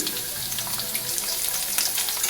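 Diced potatoes frying in a pan for a spicy potato curry, a steady close hiss and crackle that sounds almost watery, no talk.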